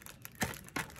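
Thin plastic wrapping on makeup items from a Temu makeup box being unwrapped by hand, giving two short, soft crinkling bursts close by with quiet pauses between them.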